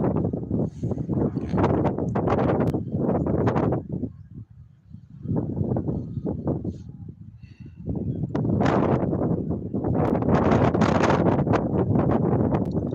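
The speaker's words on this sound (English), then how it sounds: "Very windy." Strong wind buffets the microphone in loud roaring gusts, easing briefly between bursts, with no voices heard.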